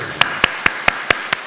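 Six sharp, evenly spaced hand claps close by, about one every quarter second, at a church Sunday service during a bouquet presentation.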